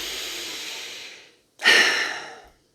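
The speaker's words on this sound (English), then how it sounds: "deep breath" Two long breaths close up, a slow airy inhale fading out, a brief pause, then a stronger sighing exhale that tapers away.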